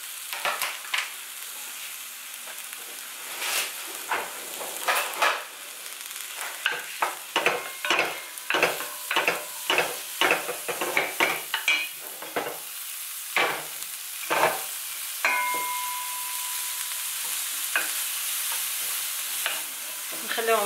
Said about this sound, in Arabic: نخليهم يتشحروا مزيان يعني حتى يدبا لينا هاد الفوار هذا